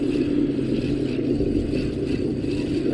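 A boat engine throttled down to a low idle as it passes by on the water near Freeport, Texas, giving a steady, loud, rumbling drone throughout with no voices.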